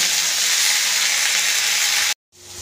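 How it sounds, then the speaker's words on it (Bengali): Pointed gourd pieces fry with salt and turmeric in a pan, giving a loud, steady sizzle that cuts off abruptly near the end, followed by a brief quieter sizzle. "পটলগুলো ভালো করে নুন হলুদ দিয়ে ভালো করে ভেজে নেব।"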